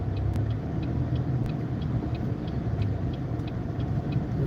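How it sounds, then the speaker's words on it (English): A car creeps through stop-and-go rush hour traffic, a steady low road rumble and engine drone continuing without break, with faint periodic ticks like a turn signal above it. "And it's still stop and go traffic."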